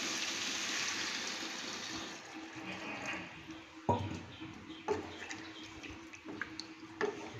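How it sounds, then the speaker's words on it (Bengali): Water poured into a pan of simmering rohu fish curry with data (stalks), a steady liquid gush with a few sharp splashy drops near the end, fairly soft and close, with no talk. "এবার আমি এতে জল দিয়ে দেব।"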